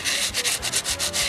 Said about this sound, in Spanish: lo único que van a hacer es lijar